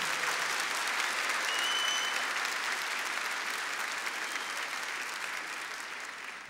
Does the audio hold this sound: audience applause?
yes